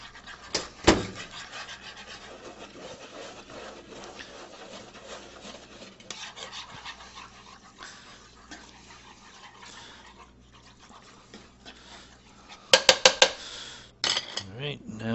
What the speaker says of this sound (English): So just stir this together.